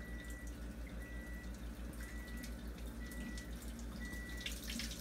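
Water runs in a steady stream from an alkaline water machine's tap, a continuous gentle splashing with faint intermittent electronic tones in the background.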